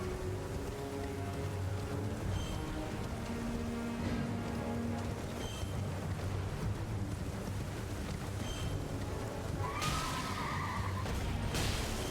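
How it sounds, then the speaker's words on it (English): Horse neigh from the video game Elden Ring, a whinny rising amid dense game music and combat noise, with a sharper neighing burst near the end riding over a rain-like hiss. "because I'm mostly hitting his horse"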